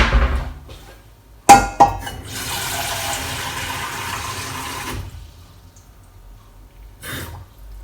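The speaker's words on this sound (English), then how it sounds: "So I'm going to put some water on." Tap water runs into a pan for boiling eggs in a home kitchen. A clatter sounds first, then a steady gushing stream of water fills the pan for about three seconds before it stops, followed by a brief later knock.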